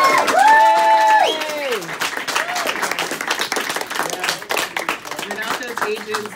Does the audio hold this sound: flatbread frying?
no